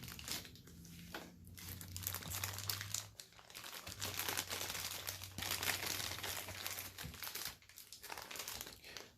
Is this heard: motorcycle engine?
no